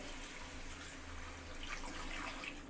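Water pours steadily into a pot holding a whole duck with bay leaves, pepper and salt for a creamy duck roast, a continuous close splashing rush throughout.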